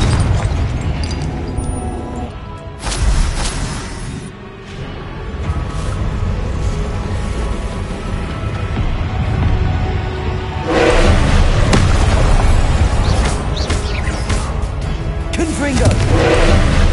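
Confringo explosion spells in Hogwarts Legacy go off as a series of heavy booms and bursts over dense battle noise, with a voice speaking throughout.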